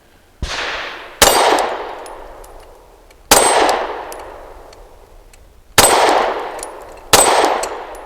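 A Canik METE MC9L pistol fires five loud shots at irregular intervals outdoors, each a sharp crack with ringing metallic clangs from a steel spinner target that fade out slowly.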